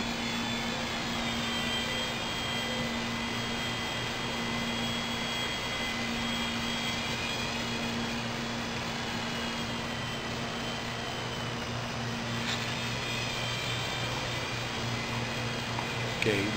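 A Blade mSR micro RC helicopter fitted with a MIA Delta Air-Ram kit, with aluminum skids and a Delta tail guard, flies with a steady high-pitched rotor and motor whine that holds at an even level for the whole stretch.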